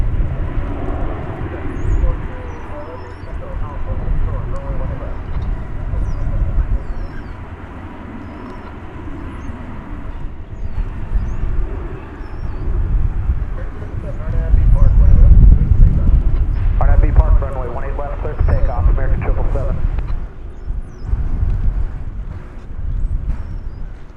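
An airliner on flight 777 bound for Las Vegas passes at DFW airport, a broad engine roar building to a loud peak midway and then easing off, while someone talks over it.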